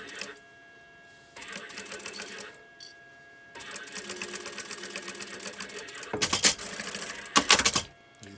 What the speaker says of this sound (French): je viens coudre tout simplement au bord